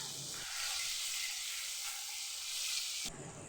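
Tomato curry sizzles steadily in a pan, a continuous bright frying hiss holding at a fairly even level with no voices over it.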